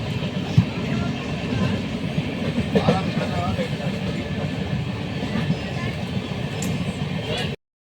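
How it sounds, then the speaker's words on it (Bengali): A train rolls past with a steady low rumble and faint rail clatter running throughout, while a person talks over it. "ট্রেন এসে গেল"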